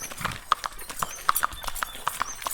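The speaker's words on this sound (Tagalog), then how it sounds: "Malakas ang kabayo mo no" Horse hauling a load of coconuts, hooves clip-clopping in a quick, fairly regular series of sharp hits on hard ground, close and distinct, with faint background noise between strikes.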